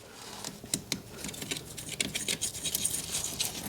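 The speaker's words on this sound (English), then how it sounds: "You can hear that. It's all hollow behind that." Tapping and scraping on POR-15 coated metal that has gone hollow behind the coating, a run of close, dry, scratchy knocks and clicks in an irregular rhythm with no talk.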